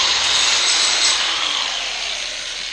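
A 120 grit disc sanding a steel front bumper on a Toyota 4Runner build gives a continuous harsh, hissing grind up close, steady and loud, easing slightly toward the end with no talk.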